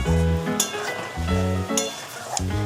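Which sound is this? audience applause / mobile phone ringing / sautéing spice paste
sautéing spice paste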